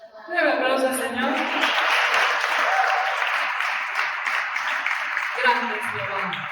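A church congregation applauds the Lord with steady, dense clapping sustained for several seconds, fairly close and full, with voices mixed into the applause.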